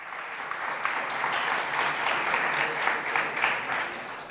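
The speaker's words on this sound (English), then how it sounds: "round of applause for them" An audience claps steadily in a busy, continuous round of applause, with a few sharper claps standing out and faint voices mixed underneath.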